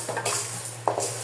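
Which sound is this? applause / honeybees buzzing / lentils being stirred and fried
lentils being stirred and fried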